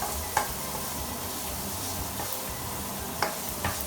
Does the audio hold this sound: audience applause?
no